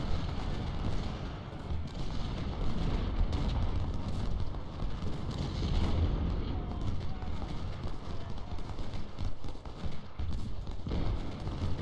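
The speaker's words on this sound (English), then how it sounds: "Stafford's within, like, the area of effect that the game gives to this artillery barrage" Continuous rumbling battlefield din in Ultimate General: Civil War during an artillery barrage at Second Bull Run: a steady, dense low roar with scattered thuds and crackle, loud and unbroken throughout.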